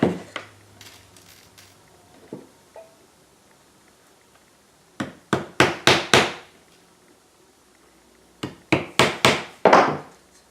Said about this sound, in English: So I'm nailing these nails in so I know that they actually fit inside of that square there.